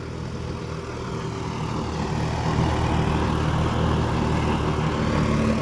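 A John Deere 5050D tractor works a field at a held-down throttle, its engine droning steadily and loudly in a continuous low rumble that swells slightly partway through.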